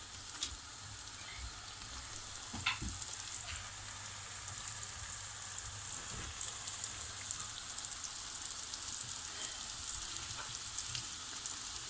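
A steady, soft sizzle of pişi dough frying in hot oil, with faint crackles and pops scattered throughout.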